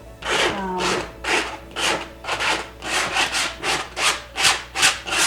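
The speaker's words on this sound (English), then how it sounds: "This is just an old Starbucks card that's been well loved. And you can scrape." An old plastic gift card scraping paint across a canvas in about ten rhythmic rasping strokes, close and fairly loud, with no voices.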